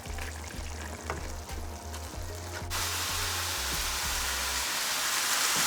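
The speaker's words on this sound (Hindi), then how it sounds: "यहाँ कीमा भुन रहा है, तकरीबन भुन गया है" Minced meat (keema) frying in a pan, a steady broadband sizzle that swells louder partway through and carries on continuously, with a low electrical hum underneath and no talking.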